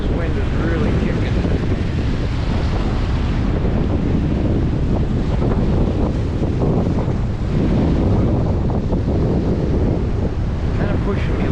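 Strong wind buffets the microphone during an ebike ride outdoors in Buffalo, a loud continuous roar and rumble throughout with no break.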